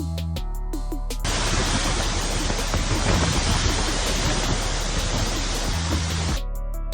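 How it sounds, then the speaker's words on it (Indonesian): Strong wind roars as loud, steady broadband rushing through a landscape of ice-coated trees, continuous and close for most of the stretch with no speech. "Angin di wilayah ini sangat kuat hingga mampu mencabut pohon dari akarnya."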